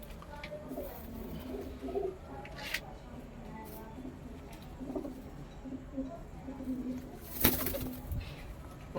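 A white pigeon with a black beak and black feet, kept by a bird fancier, coos softly in low, repeated murmurs beneath someone talking nearby, with a few brief sharper chirps and rustles.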